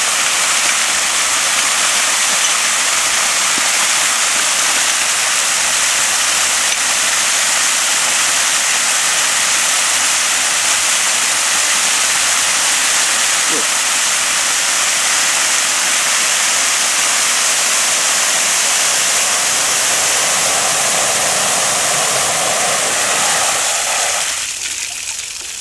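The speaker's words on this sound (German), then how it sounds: "der Unterflurrand des Standrohrs jetzt richtig gespült" Water flushing hard through an underground hydrant standpipe, a loud steady gushing roar lasting throughout, then cutting off abruptly near the end.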